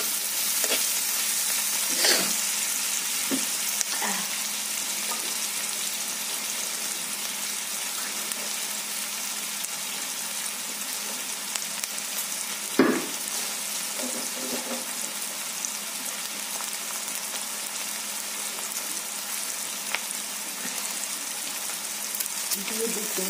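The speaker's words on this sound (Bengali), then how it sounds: "পেঁয়াজটা একটু লাল করে ভেজে নিই" Onion fries in oil with a constant close sizzle, broken by a few clanks and scrapes of stirring and a sharp knock near the middle.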